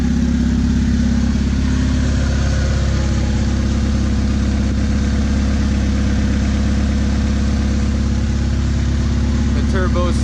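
A turbocharged Honda Accord CD5 engine runs steadily, a loud, close low-pitched drone holding constant throughout, with a brief higher whine near the end.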